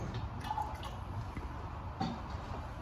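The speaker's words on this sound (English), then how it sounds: "So I'm going to pour my acid into it." Acid is poured into water in a flask during a chemistry titration practical, producing faint drips and light splashes over a quiet background, with a sharper splash near the end.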